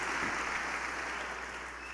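Steady applause from a church congregation, a dense wash of many hands clapping at once, heard from a distance and fairly soft, continuous without break.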